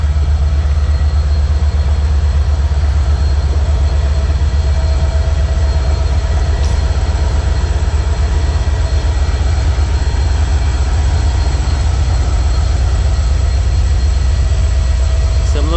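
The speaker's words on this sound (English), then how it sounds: "Here comes another train." A slow train passes beside an inner-city creek in Alabama, a loud, close, continuous low rumble of heavy wheels and engine with faint metallic squeals, sustained from start to end without speech.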